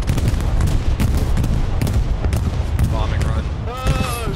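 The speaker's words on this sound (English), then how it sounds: "Bombing run." A bombing run in the Hell Let Loose video game: a loud, continuous rumble of explosions and heavy fire, with a whining tonal sound rising near the end.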